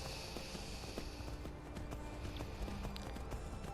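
A horse's hooves clip-clop in a steady walking rhythm in the video game Skyrim, over a busy, muffled background, fairly faint and close.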